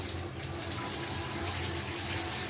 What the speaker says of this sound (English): The water pressure is perfect on this.